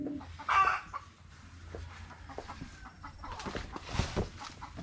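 Chickens on a backyard farm clucking in scattered short calls, moderately near, with one louder squawk early and small rustling movements around them.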